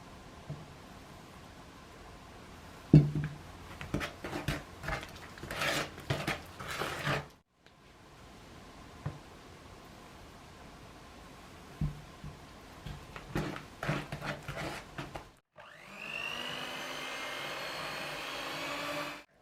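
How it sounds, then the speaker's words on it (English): Cupcake batter is mixed with beaten egg added a little at a time, in two bursts of rough scraping and tapping against a bowl, then an electric mixer starts with a steady whirring hum. "Add the beaten egg a little at a time and mix well"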